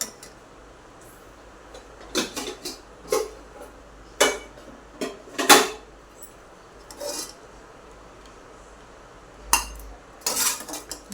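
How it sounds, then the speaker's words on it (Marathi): Boiled potatoes being moved from the pot into a bowl, heard as sparse close clinks and scrapes of a utensil against metal and dishware, separated by quiet gaps. "पहा बाउलमध्ये काढून घेतो आपण"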